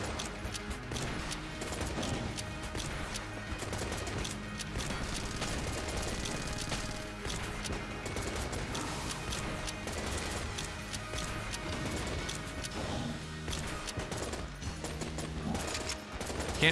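Rapid gunfire is spammed nonstop in Enter the Gungeon, with dense, steady shots over game music and no pauses.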